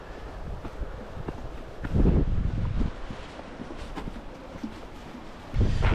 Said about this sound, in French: Par contre le vent là, bien présent.